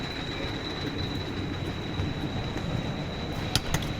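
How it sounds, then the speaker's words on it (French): A Gravity Group roller coaster train at Parc Astérix rumbles along its track nearby, a steady roaring clatter with a couple of sharp metallic clicks near the end. "Il est là le train."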